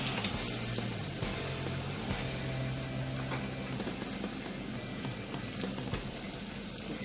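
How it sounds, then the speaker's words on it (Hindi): Coriander vadi pieces fry four or five at a time in hot oil until golden. A steady hiss with scattered crackles sounds up close, uninterrupted by talk. "ये मैं बढ़िया इसमें तलने के लिए डालती हूँ।"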